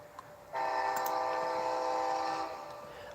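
A CSX freight train in a Roblox railroad game sounds its horn in a loud, steady multi-tone blast lasting about two seconds, over a background rumble of the train passing, with a faint toot just before.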